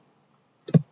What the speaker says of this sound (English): Once I hit enter